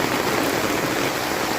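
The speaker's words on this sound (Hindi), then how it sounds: "कल रात से ही बहुत ज़्यादा बारिश हो रही है, बहुत ज़्यादा।" Heavy rain in Ranchi pours down in a dense, steady hiss of water, constant and fairly loud with no voices over it.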